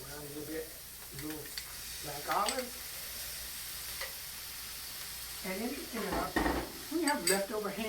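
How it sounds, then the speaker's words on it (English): Onions and mushrooms sizzle in oil in a pan, a steady frying hiss running throughout, with utensil stirring and pan clinks, while people talk over it intermittently. "Just a bit of a sizzle."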